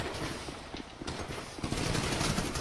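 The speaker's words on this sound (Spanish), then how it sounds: "veo dos ráfagas de disparos" Bursts of rapid gunfire in a police shooting video game, a dense crackle of shots that builds toward the end, steady and fairly close with no talk over it.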